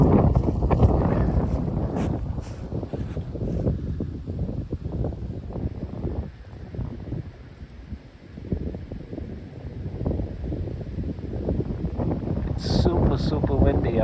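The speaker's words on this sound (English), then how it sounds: "Super windy up there, I tell you." Strong gusting wind roars across an exposed hilltop on a stormy New Year's Day, buffeting the microphone in steady, heavy rumbling waves for the whole stretch, with brief bursts of rustling and faint talk mixed in.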